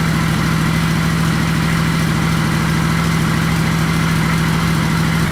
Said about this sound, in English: the radiator fan is turned on, so the bike is sufficiently warm